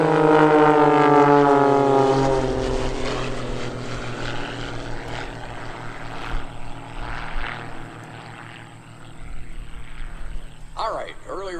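Propeller aerobatic planes of the Iron Eagle team roar overhead at the 2013 Lehigh Valley Airshow, a loud engine drone that rises in pitch then fades, with a PA announcer talking over it and a brief pass returning near the end.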